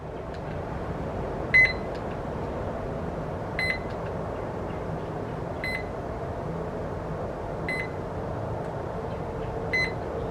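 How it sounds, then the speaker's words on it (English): An electronic device gives short high-pitched beeps about every two seconds, five in all, over a steady low background hum. "So it does a beeping sound."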